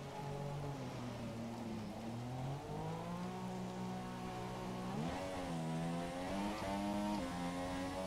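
A Formula 1 car in the F1 2017 video game drives through heavy rain at Spa, its engine note climbing and dropping through gear changes over a steady hiss of rain and spray.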